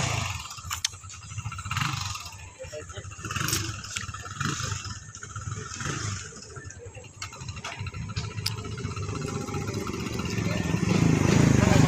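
Motorcycle engines rumble on a rural road, three bikes, a rough low drone that swells and grows louder toward the end, with people talking throughout.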